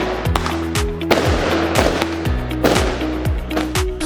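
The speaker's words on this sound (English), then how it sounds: "Test the height and loudness of fireworks." Fireworks set off in a height and loudness quality test, a rapid irregular string of sharp cracking bangs with whistling rising tones between them, loud and close.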